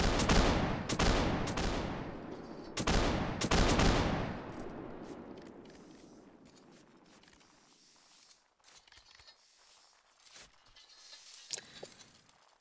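Musket gunfire in Mount and Blade Napoleonic Wars, a multiplayer line-battle game: a few sharp volleys crack and echo early on, then sparse scattered single shots and faint battlefield noise trail off.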